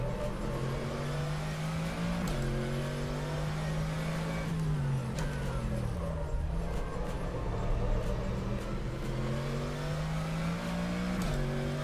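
Mercedes AMG GT3 race car engine in rFactor 2 at Circuit Zandvoort, a steady loud drone with pitch rising through the gears and dipping on downshifts into corners, continuous throughout.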